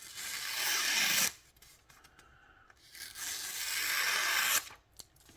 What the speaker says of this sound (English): it definitely sounds like it's going through this phone book paper better